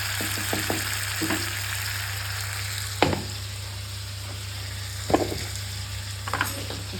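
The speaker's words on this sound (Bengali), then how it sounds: "আর সর্ষে আর কাঁচা লঙ্কাটা এখানেই দিয়ে দেবো।" Mustard paste and green chili frying in hot oil gathered in the middle of a pan, a steady sizzle with a few sharp scraping stirs and clinks, close and fairly quiet, with no talking.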